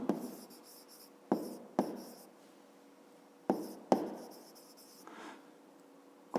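A pen scratches on paper while a fifth-grade math exercise is worked through, in soft continuous strokes broken by several sharp taps as the pen is set down or lifted, quiet and close.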